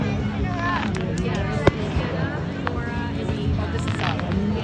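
Fourth of July fireworks go off at a busy outdoor show, with a sharp nearby bang in the middle and scattered pops and crackles. Crowd chatter and wind noise run under them throughout.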